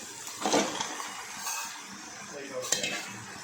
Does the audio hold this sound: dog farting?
no